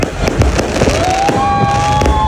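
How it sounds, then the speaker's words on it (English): Fireworks at a destination wedding in Cancun at night, with repeated booming bursts and crackles plus a rising whistle, loud and close throughout. "it was time to have the fireworks"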